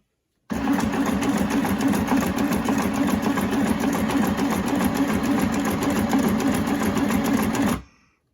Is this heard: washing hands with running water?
no